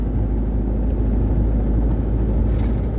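A car rolls slowly along a foggy road in the early morning, giving a steady, loud low rumble and road whir throughout, with no voices.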